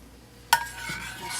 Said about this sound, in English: now I'm going to add our thickened portion of gravy back in